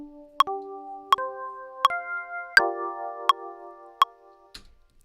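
A stacked-fourths chord built up note by note on a lo-fi jazz keyboard, shifting into a minor 9th voicing. Six short, bright struck attacks land at an even, steady pace, each one adding sustained tones, before a soft final rustle.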